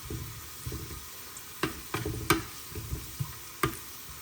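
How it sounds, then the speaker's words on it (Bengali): Dried chili powder fries in hot oil for tempering dal, a soft sizzle punctuated by sharp clinks and scrapes of a spoon stirring in the pan, close and fairly quiet. "আর এখানে আমি একটু শুকনা মরিচের গুঁড়া ইউজ করব বাগারে, তাহলে কালারটাও সুন্দর আসবে ডালের আর ঝাল ঝাল হবে।"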